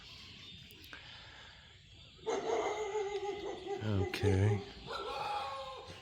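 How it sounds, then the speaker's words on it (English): Temple dogs barking and yelping close by in a forest clearing near a crematorium in rural Thailand, several sharp barks clustered around the middle, with a person speaking briefly and some outdoor background noise. "Temple dogs."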